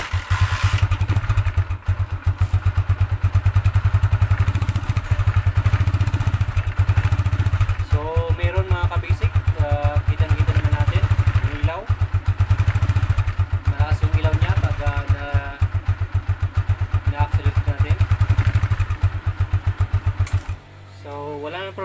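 A motorcycle engine starts and runs at a steady idle close by, with a low continuous rumble and mechanical clatter, while someone talks over it before the engine cuts off near the end.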